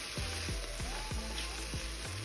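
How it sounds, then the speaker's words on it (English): Vegetables sauté in a pot after chicken has been browned, giving a steady close hiss with soft sizzling crackle and a few faint stirring scrapes, with no talking. "I'm now sauteing my vegetables"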